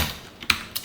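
Computer keyboard keys tapped a few times in quick succession while code is typed, close and crisp with no talking.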